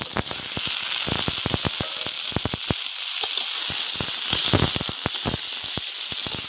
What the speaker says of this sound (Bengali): মশলাটা কষিয়ে নিয়েছি, এবার আলুগুলো দিয়ে দেবো।